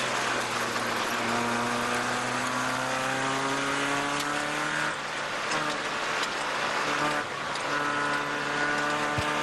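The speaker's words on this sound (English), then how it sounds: "and we are full throttle here" A race car engine revs hard at full throttle through a lap in a sim racing onboard view, loud and continuous, with rising and falling pitch through gear changes and no talk over it.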